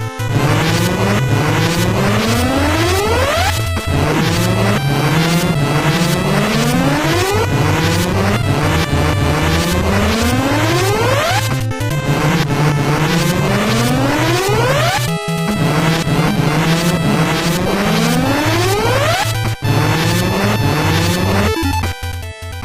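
Mega Man 9 warning alarm: a loud, repeating electronic siren whose pitch sweeps upward over and over in a steady cycle, continuous and dense for the whole stretch with chiptune music underneath.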